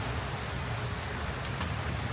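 Rain falls steadily outdoors at a wedding, a dense, even hiss of drops on surfaces, fairly quiet and without voices over its short span.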